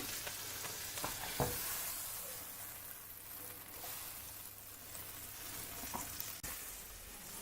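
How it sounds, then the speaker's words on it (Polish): Steady sizzling of butter melting in a hot pan, with occasional soft pops and clatters of a utensil, close and continuous with no talking. "A teraz już będę wrzucała masło na patelnię."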